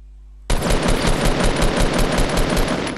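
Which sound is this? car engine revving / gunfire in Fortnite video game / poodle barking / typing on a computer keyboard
gunfire in Fortnite video game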